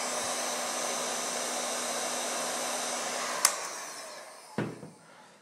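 Heat gun warming heat-shrink tubing on a homemade hi-fi speaker cable, a steady whooshing blower hum for about four seconds, then a click and a brief clatter as it shuts off.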